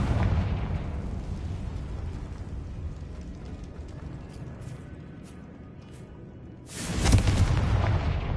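A Confringo blasting spell in Hogwarts Legacy sets off a sustained rumbling explosion that trails away, then a second loud, bright blast erupts near the end with a heavy low boom.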